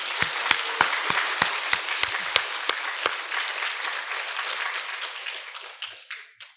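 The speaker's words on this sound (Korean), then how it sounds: "격려의 박수를 한번 합시다." A church congregation applauds to encourage fathers, dense steady clapping from many hands with a few sharper near claps, thinning and fading out over about six seconds.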